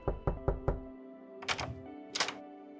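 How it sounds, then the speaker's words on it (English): Knocking on a door in the video game Love and Deepspace: four quick, firm knocks in an even rhythm, then a pause and a couple of softer thuds with rustling, all close and without any voices. "I run my thumb over the notebook's cover one last time before knocking on Caleb's door."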